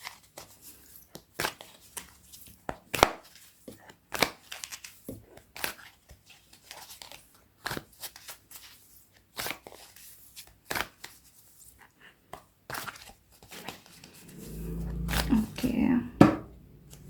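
A deck of angel cards is shuffled and handled for a tarot reading, giving a series of sharp, separate flicks and slaps at close range, with a louder rustle near the end.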